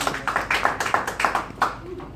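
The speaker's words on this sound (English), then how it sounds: "let's give Lauren a good round of applause" A small audience at a talk breaks into applause for a presenter: a short burst of quick, fairly regular claps up close, fading within a couple of seconds.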